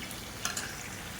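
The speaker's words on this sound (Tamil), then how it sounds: "இப்போ பாருங்கள், தக்காளி நல்லா வதங்கிடுச்சு." Tomatoes and onions sauté in a pan for kulambu, giving a faint, brief sizzle with a couple of light stirring scrapes.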